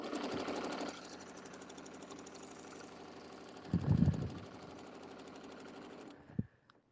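A quilting sewing machine stitches a background fill, running with a fast steady needle chatter and mechanical hum that briefly swells louder before cutting off near the end.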